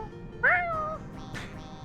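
A cat-ears accessory plays a recorded cat meow, a single rising-then-falling mew lasting about half a second, followed by a faint second chirp over low background hum.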